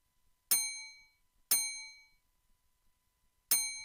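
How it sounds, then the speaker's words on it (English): Three bright, metallic bell strikes, the first two a second apart and the third after a longer pause, each ringing out and decaying in a quiet room. "And then lastly, I have this bell here"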